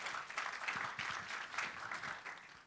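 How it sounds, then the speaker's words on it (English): A conference audience at a tourism industry event applauds two panel speakers, a soft, dense patter of many hands at a moderate distance filling the whole stretch without talk. "So big round of applause for both Ankur and Praveen,"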